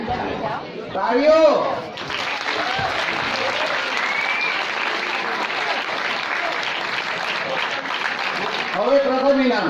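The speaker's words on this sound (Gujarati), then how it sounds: "તાળીઓ." Sustained audience applause at a school inter-school one-act drama competition prize distribution, a dense steady clapping lasting several seconds, with a voice speaking briefly at the start and end.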